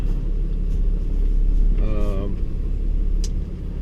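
A vehicle rolls slowly down a freshly graded, rolled and crowned stone road on a steep dam, giving a steady low rumble with gravel crunch under the tires, fairly close, and a brief tonal squeak midway.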